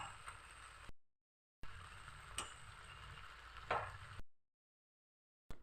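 Jaggery mixture stirred in a pan over the stove until it thickens, with soft scraping and faint sizzling in short bursts broken by silent gaps.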